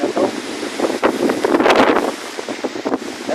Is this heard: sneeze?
no